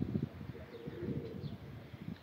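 Domestic pigeons coo softly in a series of low, repeated murmuring calls, fairly faint and steady, with no voices.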